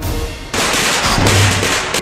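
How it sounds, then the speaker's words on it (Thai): Firecrackers lit one at a time to drive off monkeys: a loud, sudden burst of harsh, crackling noise breaks out after a quiet start and keeps going for about a second and a half, close by. "เรายังเหลือประทัดนี่นะงั้นจุดไล่มันทีละอันนี่เอาไป"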